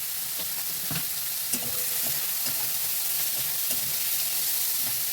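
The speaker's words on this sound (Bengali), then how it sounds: "ওই তেলের সঙ্গে লাউ বাকলাগুলো দিয়ে দিলাম" Bottle gourd peels frying in leftover fish oil in a hot pan, a steady close sizzle with a few sharp crackles and stirring scrapes throughout, no voices.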